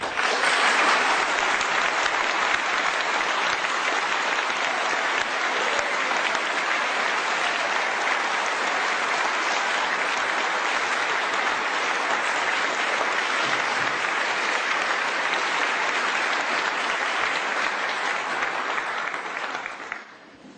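An audience at a talk gives sustained, dense applause that stays steady for about twenty seconds as speaker David Ray Griffin is welcomed, then quickly fades out.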